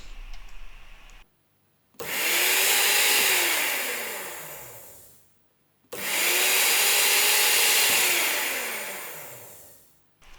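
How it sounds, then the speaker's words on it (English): A universal motor from a Lidl SilverCrest smoothie maker, run on direct current, spins up twice with a loud rising whine that holds, then winds down, with clicks and a short pause between runs. "You could have seen that motor is really universal because it works also on direct current"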